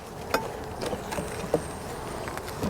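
A steady hum of many honeybees buzzing together in a queenless colony with a virgin queen in early spring, with a few faint clicks and taps mixed in.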